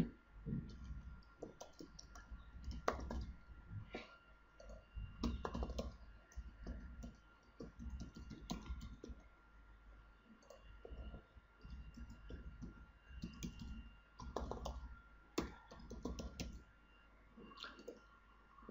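A comment being typed on a computer keyboard, with quiet, irregular bursts of clicky keystrokes and short pauses between words, close but faint over low room hiss, with no one speaking.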